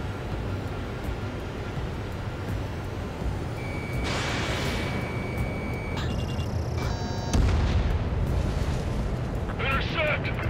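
Anti-aircraft fire and battle noise from the Ace Combat 7 video game: rumbling, broad blasts with a sustained tone, beeping alerts and rapid crackling bursts, loud and dense under radio chatter.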